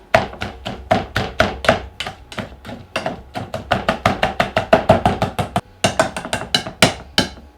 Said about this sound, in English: when you go like this, it chops stuff up really, really small and minces it for you